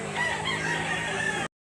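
A rooster crows loudly and continuously at a livestock auction market in Lipa, Batangas, a single sustained call filling the moment with no talk over it.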